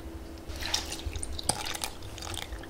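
Water is poured into Yorkshire pudding batter in a kitchen, giving a short burst of splashing and trickling liquid with a few drips, fairly close and moderately loud.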